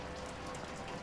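Steady rain falls in the game Shadows Over Loathing, a soft continuous patter on surfaces that carries evenly throughout, moderately quiet, with no voices.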